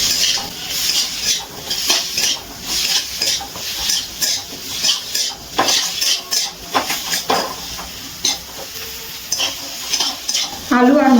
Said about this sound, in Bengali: মশলার সাথে আলু আর মটরশুঁটি একটুখানি নাড়াচাড়া করে নিচ্ছি।